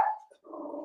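A dog gives a short bark followed by a low, rough growl, close by and fairly quiet, with no talking over it.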